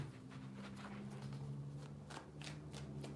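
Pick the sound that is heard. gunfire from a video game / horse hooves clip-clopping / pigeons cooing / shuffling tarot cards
shuffling tarot cards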